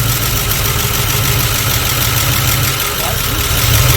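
A 1978 Dodge D150 pickup engine runs with a loud, steady idling rumble and a constant mechanical drone, holding even throughout without revving.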